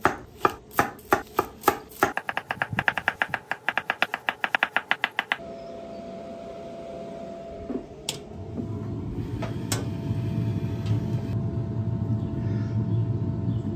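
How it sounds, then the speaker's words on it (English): A knife thinly slicing shallots on a cutting board makes a fast run of crisp, evenly spaced chops, quickening toward the end. A lower rumble and clatter follow, with no talking. "We have three shallots and we're going to simply thinly slice these."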